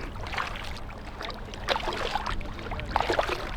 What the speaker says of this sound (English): To be fair, no rush, so just a nice gentle paddle across.